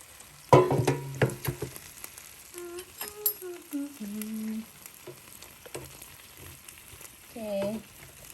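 Lemongrass paste BBQ beef sticks sizzle and fry close by. A strong burst comes early, then a steadier crackle continues with a few louder spits.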